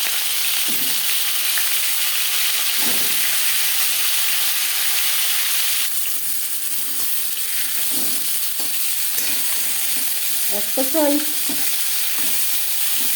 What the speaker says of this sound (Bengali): দু চামচ সর্ষার তেল গরম করে নেওয়ার পর দিয়ে দেবো ম্যারিনেট করে রাখা মাছের মাথা